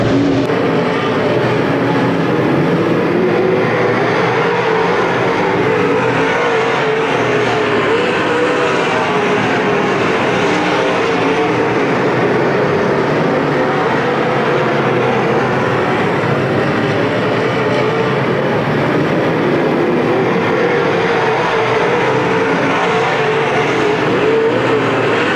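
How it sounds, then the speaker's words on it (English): Race cars roar around an oval track at Winston, a dense, sustained engine drone with no break for the full stretch, loud and steady as the field battles for second place. "Cars battling it out for the second spot, starting to reel in the leader."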